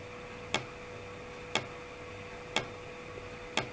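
An airsoft M249 fitted with an FCU fires at its minimum rate, giving four sharp, evenly spaced single shots about a second apart over a faint steady hum.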